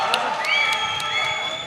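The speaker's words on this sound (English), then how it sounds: "The crowd goes wild." Crowd noise at a pro MMA fight, a broad roar of cheering with tonal whistle-like calls and sharp claps or shouts punctuating it, busy and loud throughout.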